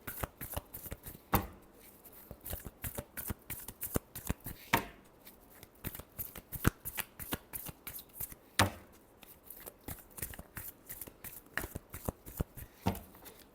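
Tarot cards being shuffled close up, a long run of rapid papery riffles and sharp flicks in uneven bursts with short pauses between them, no voices.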